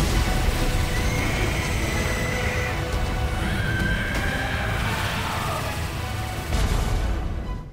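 A silver Lynel, the lion-horse enemy in the video game Breath of the Wild, lets out a loud, harsh, whinnying roar over a dense, noisy battle ambience with crashing impacts.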